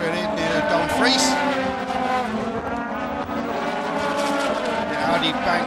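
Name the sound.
race car driving past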